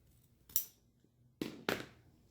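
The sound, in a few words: scissors cutting around the edge of a diamond painting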